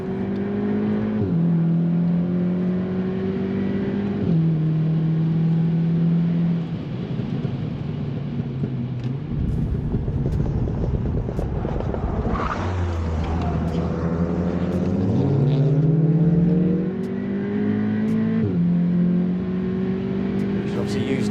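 A VW Golf accelerates hard around a track, its engine climbing steadily in pitch and dropping at each gear change, with a lift and reapplication midway, loud and continuous from inside the car while people talk over it.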